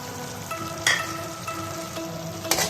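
Peas stir-fried in a kadai for a mix vegetable sabzi, a constant crackling sizzle broken by a few sharp scraping strokes of the spoon against the pan.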